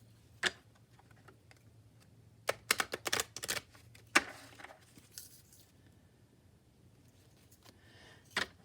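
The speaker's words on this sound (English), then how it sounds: "after I do some good hard shuffles" Sharp clicking and riffling bursts of playing cards being shuffled, a quick flurry in the middle with scattered clicks before and after, no talking.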